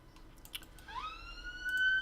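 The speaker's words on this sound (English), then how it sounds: "Unfortunately, you can hear a siren" A siren wails in the distance, rising in pitch and then holding a steady high tone, faint but clear over a quiet room background.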